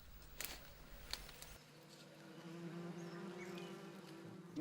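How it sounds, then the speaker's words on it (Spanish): Wild bees in a Cameroon forest buzz steadily and faintly as smoke drives them from a tree trunk, with a few sharp knocks early on and a low droning hum throughout. "Luego espantan a las abejas con humo."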